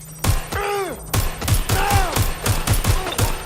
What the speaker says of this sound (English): Gunfire! Target is firing!